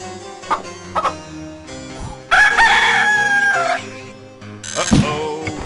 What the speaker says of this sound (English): Here, check out this rooster.